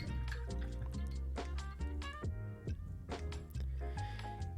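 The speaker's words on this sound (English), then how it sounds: "Now I'll rinse off my brush." A watercolor paint brush is rinsed in a water cup, giving a close run of quick, rhythmic tapping and watery clinks and swishes that keep going steadily for several seconds.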